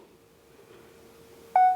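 A smartphone gives a single short electronic beep as screen recording is switched on. It comes near the end, after a stretch of quiet room hum, and sounds clear and close.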